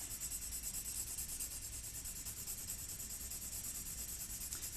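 A sharpened pencil shades across paper, a soft, steady, continuous scratchy rubbing heard close and quiet, with no talking over it.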